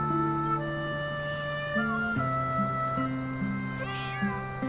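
Kittens give a run of clear, drawn-out meows, some overlapping, near and fairly loud against a quiet background with no talking.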